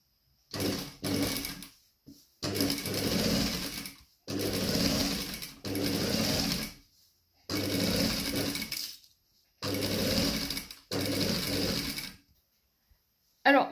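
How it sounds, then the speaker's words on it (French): A sewing machine runs a raised ridge topstitch along a white fabric yoke, in about seven steady whirring bursts of roughly a second each, separated by short pauses, close and clear with no talking. "je vais venir faire une surpiqûre, nervure, là, sur l'empiècement"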